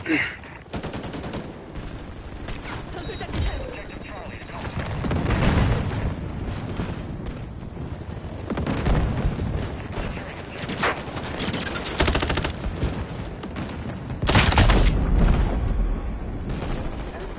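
Rapid automatic gunfire and bursts of shots in a Modern Warfare beta match on PS5, loud and near with sustained volleys and a heavy boom late on, no talk over it.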